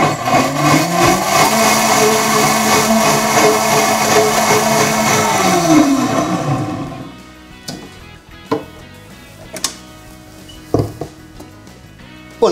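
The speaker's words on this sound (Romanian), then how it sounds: "și putem să-l blendăm" A kitchen blender pulsing whole canned tomatoes into a coarse sauce, a loud steady motor whir for about six seconds that winds down, followed by scattered knocks and clinks.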